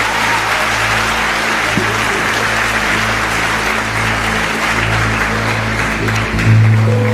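A church congregation claps in praise, a dense, steady wash of applause that fills the room for several seconds with a low hum underneath.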